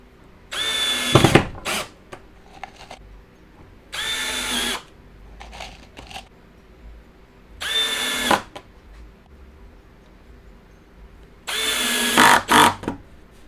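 A power drill drives screws into a C-channel track on a table, in four separate bursts of whirring a few seconds apart, each ending in a brief strained buzz as the screw tightens, with quiet pauses between.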